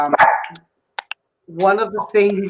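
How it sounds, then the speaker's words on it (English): A dog barks twice in quick succession somewhere off in the background, short sharp yaps in a gap between stretches of close conversational speech. "you can hear a dog bark in the background"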